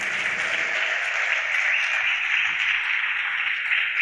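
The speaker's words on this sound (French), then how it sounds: "Et je vous demande de l'applaudir" An audience at a conference inauguration in Tangier applauds steadily for the president's wife, an even, moderately loud wash of many hands clapping that holds for several seconds without talk.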